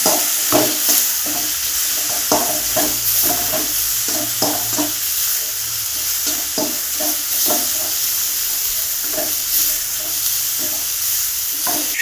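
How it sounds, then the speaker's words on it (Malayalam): Vinegar-laced mixture for a dried fish dish sizzling in a pan, with repeated scraping stirring strokes over a constant close hiss and no voices. "കുറച്ച് വിനാഗിരി ഒഴിച്ച് കൊടുക്കാം കേട്ടോ എല്ലാം കൂടി ഒന്ന് കൂട്ടിയിട്ടൊന്ന് ഇളക്കണം"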